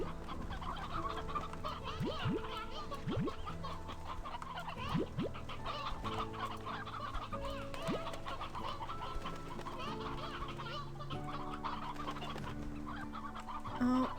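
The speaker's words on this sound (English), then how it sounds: "y'all are getting extra chickens because it's getting real crowded in that pen." Chickens cluck steadily in a crowded pen in the video game Slime Rancher 2, a dense overlapping chorus of bird calls with soft game tones running underneath throughout.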